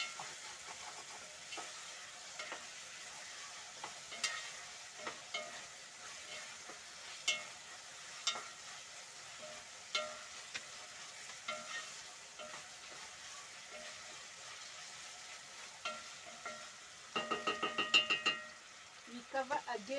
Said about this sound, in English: Now we are going to add our pork.